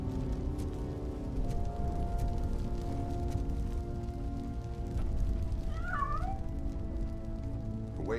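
A cat gives a brief, faint meow in Robocop: Rogue City video game, barely rising above a steady, dense layer of game ambience and rumble.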